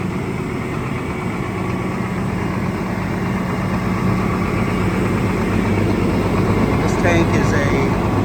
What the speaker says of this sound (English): But you can hear the engine sounds great.